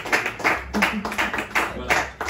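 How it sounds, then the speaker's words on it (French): An audience at an arts café event applauds performers: rhythmic clapping bursts, fairly loud and near, with a voice speaking over them. "Je voudrais qu'on applaudisse très très fort Annie Soir"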